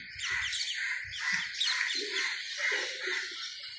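Many birds chirp and call together in a tree where bats also roost, a dense continuous chorus of overlapping tweets with some lower cooing beneath.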